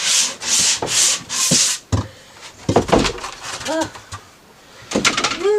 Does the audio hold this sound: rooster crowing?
no